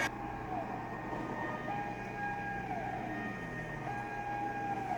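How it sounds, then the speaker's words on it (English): Wailing emergency sirens in a movie scene, a steady tone that rises and falls over a low rumble of traffic and ambience, sounding somewhat distant and continuous throughout. "Those sirens sound so pretty, actually."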